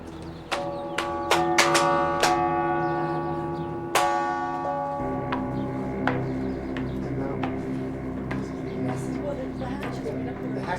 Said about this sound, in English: This is a big bell.